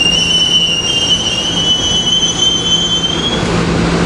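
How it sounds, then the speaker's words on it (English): SEPTA Lansdale commuter train of several rail cars passing close by, a steady loud rumble with high sustained wheel squeals that fade out near the end. "This is the Lansdale train with rail cars 361,"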